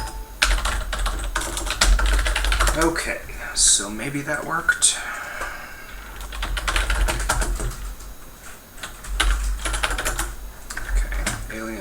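Computer keyboard typing during a Kingdom of Loathing live development stream, with quick, uneven bursts of keystrokes close to the mic and someone talking briefly over them.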